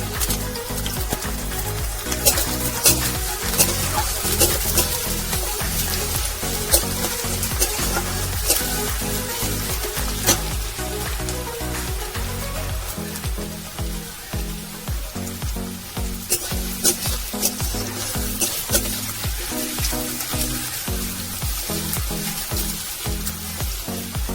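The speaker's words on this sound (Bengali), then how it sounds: "রসুন আর পেঁয়াজটা হালকা ভাজা হয়ে গেছে" Onions, garlic and chopped ginger sizzle steadily in a hot pan for a long stretch, with occasional clinks and stirring noises and no talking.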